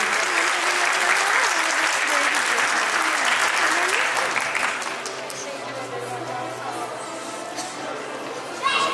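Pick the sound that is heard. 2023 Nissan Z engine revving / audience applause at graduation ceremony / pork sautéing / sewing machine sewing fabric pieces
audience applause at graduation ceremony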